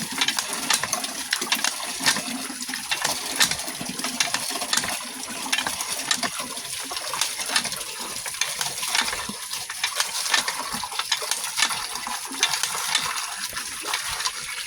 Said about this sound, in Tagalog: Kailangan magbumba